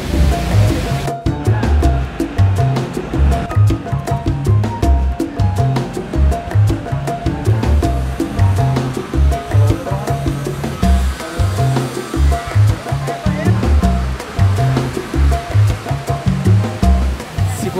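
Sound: waterfall inside a cave in Viñales, Cuba

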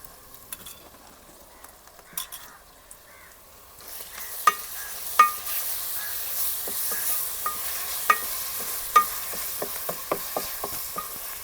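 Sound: onion, tomato, capsicum and green masala paste cooking in pan

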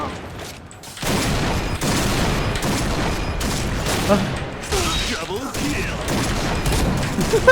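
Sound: gunfire in a video game

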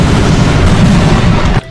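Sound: gunfire from Roblox All Star Tower Defense video game

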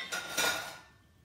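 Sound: crock pot lid being put on

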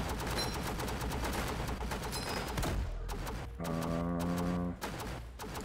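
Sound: machine guns firing in Northend Tower Defense video game

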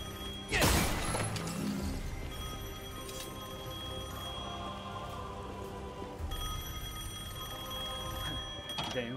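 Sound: telephone ringing in the video game Devil May Cry 5

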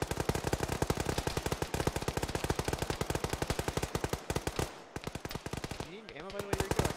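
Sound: automatic gunfire in video game Arma

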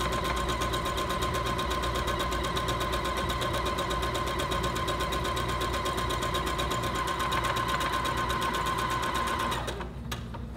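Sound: Singer Featherweight C240 sewing machine stitching a buttonhole

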